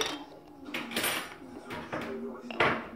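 A spoon clinks and scrapes against a bowl while a spoonful of mustard is stirred into batter for a tuna, surimi and olive cake, several short knocks and scrapes at close range, with talk in the background.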